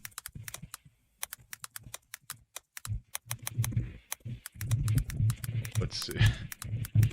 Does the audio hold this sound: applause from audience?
no